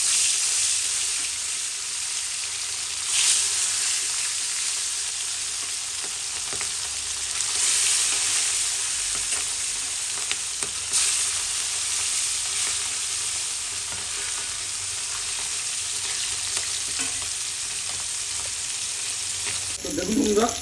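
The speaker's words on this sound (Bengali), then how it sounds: "তো এবার আমি মাছগুলো এক এক করে ভেজে নেব।" Fish sizzling and spitting as they fry in hot oil in a kadai (wok), a steady close crackle running throughout with a few louder bursts and light stirring near the end.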